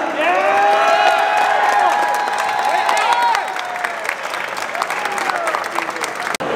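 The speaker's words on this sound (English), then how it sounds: "Clap it up. Clap it up." A convention crowd at QuakeCon applauding and cheering, loud clapping mixed with whoops and high shouts that fade to a lighter patter after a few seconds.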